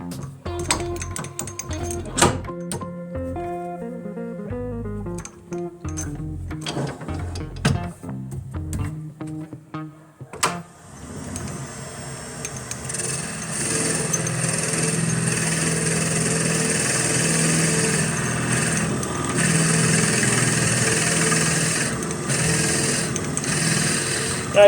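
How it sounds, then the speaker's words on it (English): A power drill bores out the center of a round wooden piece, starting after a stretch of tool setup clatter and then running as a steady, loud whir until the end. "The next thing I'm going to do is drill the center out"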